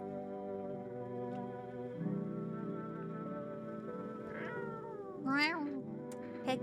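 Kippy, a video game cat, gives a drawn-out meow over a steady background hum, followed by a sharper rising and falling meow near the end.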